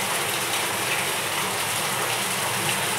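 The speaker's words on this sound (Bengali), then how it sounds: "এবার জল দিয়ে দেবো।" Water pours steadily into a pan of chicken and pointed gourd curry, making a loud, continuous rushing splash for about three seconds, with no talking.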